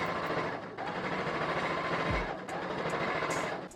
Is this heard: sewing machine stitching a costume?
yes